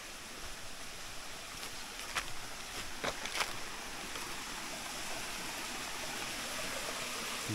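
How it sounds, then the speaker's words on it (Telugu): A small waterfall runs over rocks near a stream, a steady, moderately distant rushing wash with a few brief clatters partway through and no talking. "ఇక్కడ ఒక వాటర్ ఫాల్ ఉందన్నమాట"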